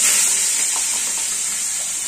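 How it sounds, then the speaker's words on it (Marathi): Tempering sizzles steadily in hot oil for batata bhaji, a bright continuous hiss close up that fades only slightly over the couple of seconds, with no voices over it. "हे आपण फोडणी टाकूया"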